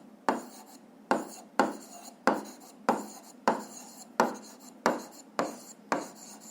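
Chalk or marker writing a formula on a board, about ten sharp strokes in an even rhythm, each a quick scratchy tap fading off, close and without talk.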